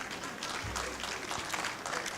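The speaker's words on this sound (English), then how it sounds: "Please give us a round of applause." Seminar audience applause, a fairly quiet and distant patter of many hands clapping steadily, with a brief low thump partway through.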